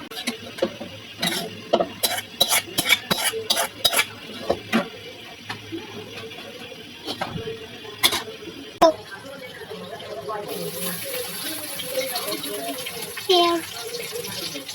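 Boiled water is poured from a pot into several bottles, making gurgling, filling sounds mixed with clinks and taps of the bottles, at close range and fairly loud.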